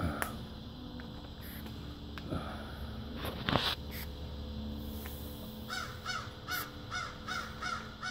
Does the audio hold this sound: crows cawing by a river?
yes